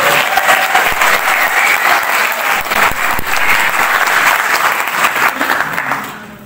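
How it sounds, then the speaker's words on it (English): An assembly audience at a talk in Burgess Hill, Mid Sussex, gives a guest speaker sustained applause, loud close clapping from many hands that tapers off at the end. "let's have a brief round of applause for Dave"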